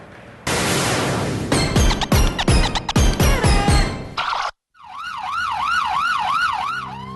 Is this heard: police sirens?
yes